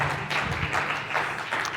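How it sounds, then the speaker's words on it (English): An audience at a conference session applauds in a short, moderately loud patter of clapping that comes in a few uneven swells. "Help me give them a round of applause."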